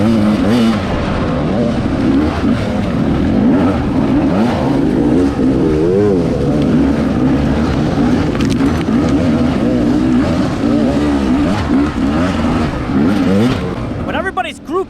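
An off-road race vehicle climbs a rocky, rumbly uphill road, its engine loud and close as it accelerates under continuous talk from a commentator.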